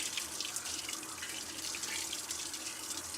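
Water pours steadily into a domestic washing machine as it fills for a final rinse, a continuous hissing rush that holds at an even level throughout.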